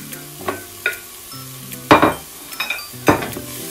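Carrot and pumpkin are stir-fried in a rice cooker pot, with a soft sizzle under repeated scraping and clinking strokes of a utensil against the pot, close and alone.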